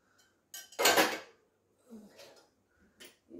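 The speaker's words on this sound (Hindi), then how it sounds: "अब मैंने कहा चलो ये बर्तन वर्तन भी जोड़ लूँ" Metal kitchen pots and utensils being handled and stacked at home, with one loud clattering burst followed by softer scattered clinks and scrapes, fairly close, without speech.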